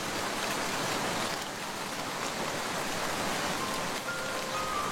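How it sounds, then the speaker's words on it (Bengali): Cartoon storm with heavy rain, a dense, steady rushing downpour that stays loud and even throughout with no voices. "এখন তো ঝড় বৃষ্টি হচ্ছে।"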